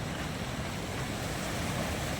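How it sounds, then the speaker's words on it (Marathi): Waves wash across the overflowing Nathsagar reservoir at Paithan, a steady broadband surf rush mixed with wind buffeting the microphone, continuous and fairly loud with no voices. "लाटा बघ ना ये लाटा."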